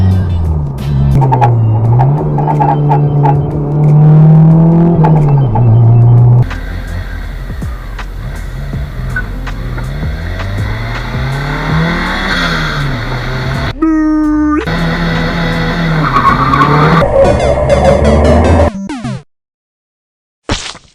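Turbocharged Honda Civic hatchback driving on a highway, its engine droning and surging steadily loud and close throughout, with tone shifts as it accelerates, then cutting off abruptly near the end.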